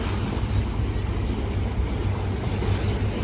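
Aegean Sea waves wash along the coast at Izmir, a steady low roar of surf mixed with wind buffeting the microphone, continuous throughout with no speech.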